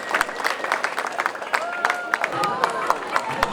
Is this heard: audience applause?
yes